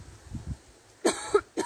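Two or three short, sharp coughs close to the microphone, following a few soft low sounds, with brief gaps between them.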